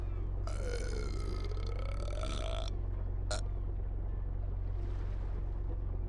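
A ship captain in a seafaring detective game lets out a long, loud, drawn-out burp over a constant low engine hum, followed by a short sharp knock and faint wind and water wash.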